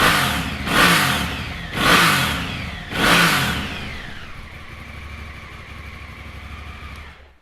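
A 2017 Honda CRF1000L Africa Twin with a 1000cc parallel twin engine starts and is revved three times in quick bursts, then settles into a steady, close idle with no talking.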